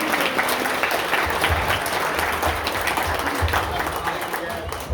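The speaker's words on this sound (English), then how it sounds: "y'all give these guys a round of applause for what they do" Audience applause fills a raceway banquet hall, dense and steady clapping from a large crowd throughout, with faint voices mixed underneath.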